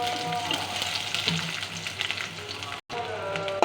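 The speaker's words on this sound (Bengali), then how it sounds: "পেঁয়াজ কুচি দিয়ে দিব" Chopped onions hit hot oil in a wok and fry with a continuous, even sizzle at moderate loudness, broken by a split-second dropout near the end.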